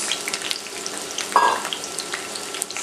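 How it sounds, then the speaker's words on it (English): Green and red peppers sizzle in hot extra virgin olive oil in a 10-inch skillet over medium heat, a steady close crackle with a brief louder hiss midway. "heat 1/3 cup of extra virgin olive oil over medium heat. Add the green peppers, the red peppers"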